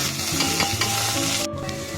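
Onion fries in a tempering of garlic, chilli, mustard seeds, cumin and curry leaves, giving a close, continuous sizzle with rapid stirring scrapes and no talk.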